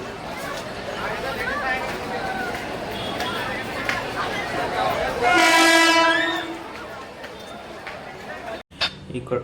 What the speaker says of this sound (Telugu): ట్రైన్ అయితే వస్తుంది,